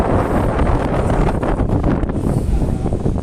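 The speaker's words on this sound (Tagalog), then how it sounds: "Lakas ng hangin." Strong wind on a building rooftop buffets the microphone in a steady, loud, rumbling roar with gusting surges throughout and no voices.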